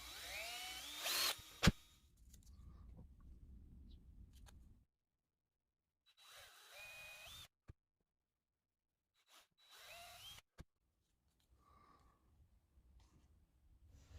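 Short bursts of a power drill boring holes into wood for an LDR and LED, separated by quiet gaps, with a low background hum and a few sharp clicks between bursts.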